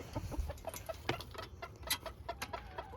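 A rooster makes repeated short clucking calls to his flock for treats in a quick, uneven rhythm, close by, with some background rustling.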